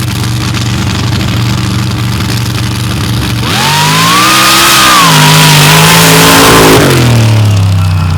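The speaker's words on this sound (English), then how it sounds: "See how this big blower motor handles the track." Blown, injected big-block drag car in a Superstock outlaw race in North Florida, rumbling loudly at the line and then roaring hard off the start with a rising, sustained engine wail before it fades.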